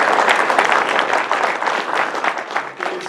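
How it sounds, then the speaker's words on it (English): An audience applauds a candidate's red-haired wife at a Boundary County political forum, giving a dense, steady round of clapping from many hands that fills the room throughout without letting up. "I'd appreciate it if you can help me give her a round of applause."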